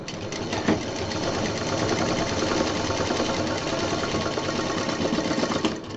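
Sewing machine stitching fabric for a baby diaper bag, a steady close rapid mechanical whir and needle clatter running continuously with slight speed changes.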